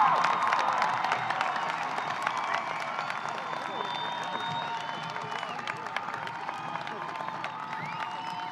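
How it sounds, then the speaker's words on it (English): A graduation ceremony audience claps and cheers for the class of 2019, a broad even roar of applause with scattered whoops, moderately loud and continuous throughout. "Can I get one round of applause for our entire class of"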